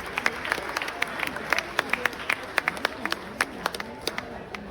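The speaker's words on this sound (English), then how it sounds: "Can we please again have a big round of applause for Anirban Larry?" At an amateur golf prize presentation in southern India, a smallish crowd gives sparse, irregular applause, with individual claps standing out and a voice speaking underneath.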